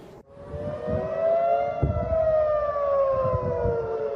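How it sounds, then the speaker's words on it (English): An air raid siren on the way back to Jerusalem wails in a long, sustained rising and falling tone. It sounds loud and steady over distant background noise, with no voices. "the air raid siren sounded"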